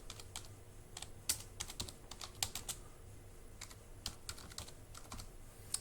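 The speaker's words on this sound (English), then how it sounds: "So I type that in." Someone types on a computer keyboard to book workshop space, with quiet, irregular key clicks in short bursts and pauses against a faint background hum.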